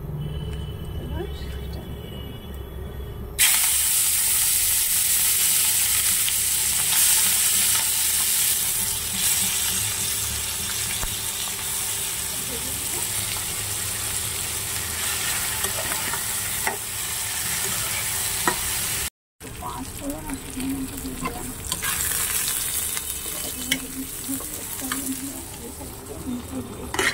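Spiced food drops into hot oil and fries with a loud, continuous crackling sizzle, broken by stirring scrapes and a brief dropout, while a voice speaks now and then.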